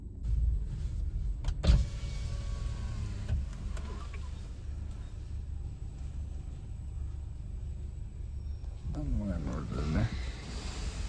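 Car engine rumbling at idle after starting, low steady hum close by with a brief clunk early on and a rising whine near the end as it moves off, voices over it.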